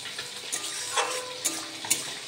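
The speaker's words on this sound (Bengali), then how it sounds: "আর এদিকে মাছ ভাজা হচ্ছে" Fish frying in a pan while a taro and potato curry is being prepared, giving a steady broad sizzle with a few brief louder spatters or utensil clinks, no talking.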